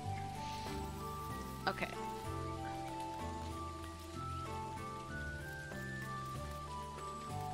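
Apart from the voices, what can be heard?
rain falling in video game Dinkum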